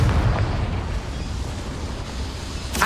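A Confringo fire spell explodes in Hogwarts Legacy, a dense, roaring blast with a heavy low rumble that sustains for nearly three seconds before a sharp crackle at the end, loud and with no talking.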